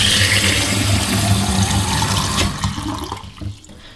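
Water poured into a container to soak sprouts: a loud, steady splashing rush that fades out after about three seconds.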